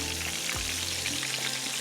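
Pieces of food fry in a pan, giving a steady, dense sizzle that holds at an even level from start to finish, with no talking.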